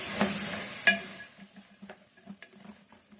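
A potato, pea and carrot sabzi gets stirred in a pan, with a soft frying sizzle that fades while a spatula gives scattered light scrapes and taps, close and fairly quiet, no speech.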